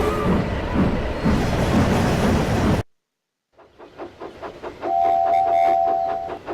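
A loud rumbling stretch cuts to silence, then a steam locomotive chuffs in a steady rhythm, its whistle sounding midway through.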